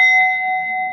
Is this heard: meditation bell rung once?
yes